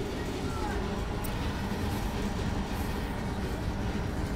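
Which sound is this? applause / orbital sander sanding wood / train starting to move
train starting to move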